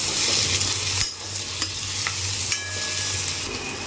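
Onion cooks with salt in a pan, a continuous close sizzle with the scrape and rustle of stirring, a few sharper clicks of the spoon against the pan, no voices.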